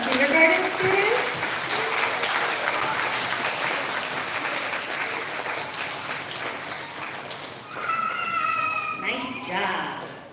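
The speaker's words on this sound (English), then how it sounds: "Can we have a big round of applause for our kindergarten students?" A big round of applause for kindergarten students at an elementary school recognition ceremony, steady crowd clapping that tapers near the end as an adult voice speaks over it.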